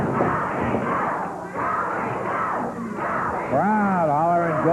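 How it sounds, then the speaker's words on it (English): Wrestling crowd at a 1980 Memphis arena, a steady loud roar of hollering and cheering from many voices that swells and holds throughout, with shouts and chanting rising near the end. "Crowd hollering, go, Rick, go."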